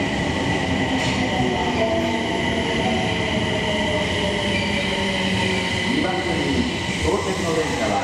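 An Osaka Metro Tanimachi Line train pulls into a station with a steady loud rumble and rising, shifting wheel tones. A station announcement voice plays over the noise.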